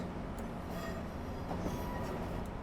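Rail sound from CSX gensets in Train Simulator 2019 on the New York New Haven route: a steady, loud low engine drone with rolling rumble throughout, no pauses and no talk.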